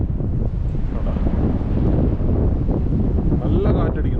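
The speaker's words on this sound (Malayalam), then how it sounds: "നല്ല കാറ്റടിക്കുന്നുണ്ട്. കാറ്റെന്ന് പറഞ്ഞാൽ അത്ര ശക്തമായിട്ടുള്ള കാറ്റാണ്." Strong wind buffets the open back deck of a cruise ship off Denmark in snow and rain, a loud, steady roar of gusts hitting the microphone close up for the whole stretch, with faint sea and ship rumble beneath.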